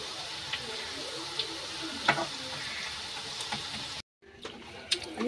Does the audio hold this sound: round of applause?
no